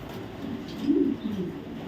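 Racing pigeons, black racing homer squabs, give soft low cooing that swells briefly near the middle, close by with a faint steady background hum and no talk.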